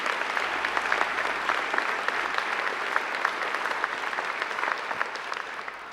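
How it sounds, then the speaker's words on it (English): Graduation ceremony audience giving a long round of applause, a dense crackle of many hands clapping steadily for several seconds, loud and full, with no talking. "I think they deserve a great round of applause too."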